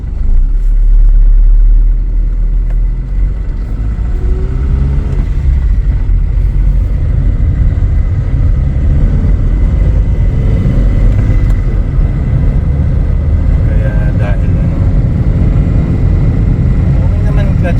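A 1999 Honda Civic fitted with DC Sports headers and a soft OEM clutch rumbles steadily from inside the cabin while being driven, a low, constant engine drone with no break.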